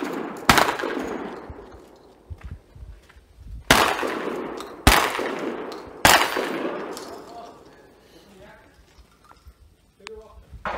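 Shotgun blasts at an outdoor defensive shotgun training session, four loud close booms spaced a second or more apart, each followed by a long rolling echo, with people talking quietly in between.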